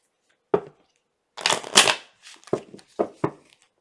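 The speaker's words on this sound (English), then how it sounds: "let's give it a good shuffle" Tarot cards riffle and snap in several quick bursts, a longer shuffle followed by sharp taps, close and crisp against silence.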